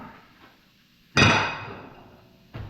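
A hammer strikes stamped metal parts to knock off welding slag: one loud, ringing metallic blow that decays over about a second, then a second hit starting at the end, with no talking.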